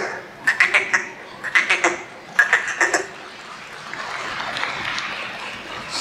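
A performer on a televised singing show vocally imitates frogs croaking in a pond, giving three quick bursts of rapid, rattling croaks, followed by a soft spread of audience noise.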